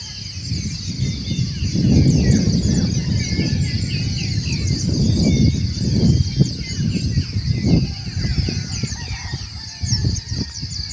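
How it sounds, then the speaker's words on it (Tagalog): Morning birdsong at a mountain campsite in Tanay, Rizal, with many birds calling and chirping in a steady, layered chorus over a low rustling background. "maririnig mo yung mga awitan ng mga ibon."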